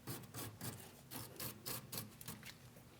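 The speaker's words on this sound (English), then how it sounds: "Let's use a wire brush for this." A wire brush scrubs the tie rod mounting area on a 2016-2025 Chevrolet Malibu during an outer tie rod replacement, with rapid back-and-forth rasping strokes that are close and steady, no talking.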